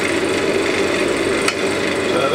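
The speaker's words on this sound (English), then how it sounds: "That's again carbide cutter used to round it." A carbide cutter rounds a long piece of wood turned between centres on a lathe, giving a steady close scraping whir with one brief louder tick partway through.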